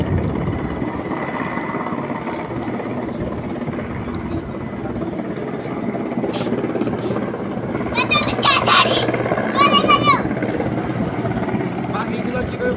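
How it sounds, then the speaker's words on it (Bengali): Helicopter flying over a street protest in Mohakhali, a steady loud rotor thrum that continues throughout, with excited voices and shouting over it. "কই গেল হেলিকপ্টার কই"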